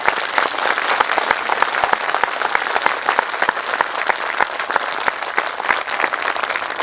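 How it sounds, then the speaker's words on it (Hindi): Enthusiastic audience applause at a festival stage ceremony in honor of a club award, dense steady clapping from a large crowd lasting several seconds without talk. "एक जोरदार तालियों के साथ"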